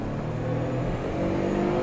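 A 1999 Suzuki Carry Turbo 4WD kei truck pulls out into traffic in first gear, its small engine droning in a steady, loud rumble that builds slightly as it accelerates.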